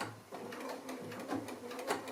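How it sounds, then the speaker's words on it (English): A sewing machine blanket-stitches around an applique with pale grey thread while quilting, giving a faint, steady, rhythmic mechanical whirr and patter up close. "So I'm just stitching, following the shape of the applique"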